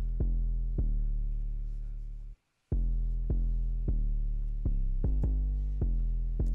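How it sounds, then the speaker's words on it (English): Deep, sustained 808 bass notes play alone in a simple pattern following the chord root notes, each punchy hit ringing out and sliding between pitches, with one short gap. "Really simple 808 pattern, just following the root notes of the chords that I just showed you."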